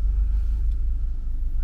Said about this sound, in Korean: 차들이 뱅뱅뱅 돌고 있어.